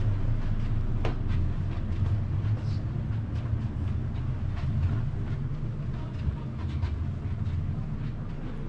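Steady, loud low rumble of the Indian Pacific sleeper train running across Australia, heard from inside a gold-class carriage, with faint rattles and clicks over the continuous drone.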